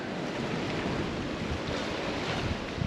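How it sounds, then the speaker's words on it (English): Sea water surges into Woolshed Cave on the South Australian coast, a loud, continuous wash of surf with rushing wind noise and no talking. "Water just gushes straight in."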